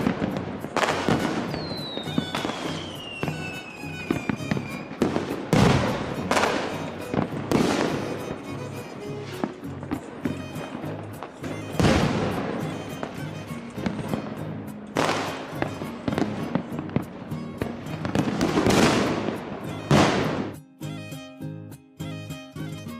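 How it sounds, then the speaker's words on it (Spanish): Rockets and firecrackers bursting nonstop over a traditional festival celebration, a dense series of loud, sharp cracks and booms at uneven intervals, with a whistling rocket rising early on and a quieter tail at the end. "Todo esto bajo la armonía de los cohetes que truenan"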